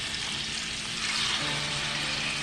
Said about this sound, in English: I'm going to add my chicken to my oil.